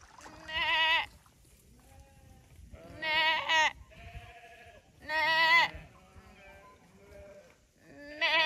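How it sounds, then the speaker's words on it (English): Cattle at a riverside campsite on the Murrumbidgee River, calling in several loud, drawn-out vocalisations spaced a few seconds apart, near and clear over quiet outdoor ambience. "the cows are now very content to come through my campsite, say hi, and go back to business."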